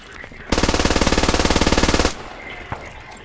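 Automatic rifle fire in the Squad military shooter game, one rapid burst of about twenty rhythmic shots lasting a second and a half, loud and close, with a single shot after it.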